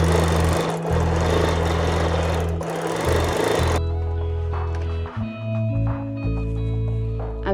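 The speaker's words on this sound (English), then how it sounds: "So I pop my little foot down and I sew very fast." A sewing machine stitching fabric fast for textured stitched artwork, its steady whirring motor running loud and close throughout, shifting in tone partway through with brief pauses.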